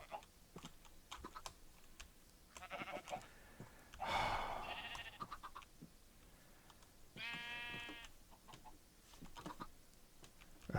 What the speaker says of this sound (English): Both these sheep are trying to come at the exact same time.